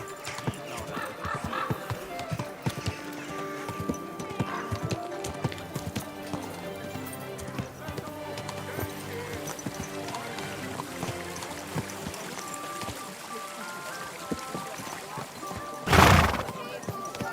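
Horse in the medieval game Kingdom Come Deliverance II, with steady hoof clip-clop under music and speech, then a loud, close neigh bursting out near the end.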